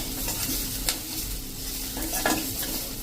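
Chopped coriander leaves being stirred into samosa filling as it fries in a pan, with a steady sizzle and repeated scraping of the spoon against the pan throughout.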